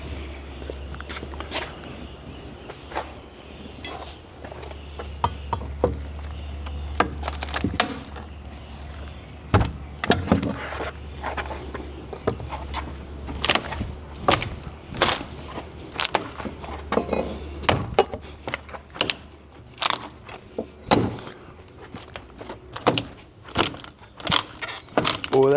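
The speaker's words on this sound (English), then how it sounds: "So I'll break the door frame on this one." A door frame is broken out during demolition of a house, with a series of sharp irregular cracks, knocks and thuds of wood giving way, growing busier toward the end, while someone talks quietly at times.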